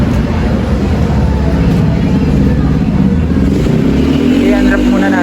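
Brand new Honda ADV 160 scooter idling as its engine warms up, a steady loud close rumble running throughout with voices talking over it.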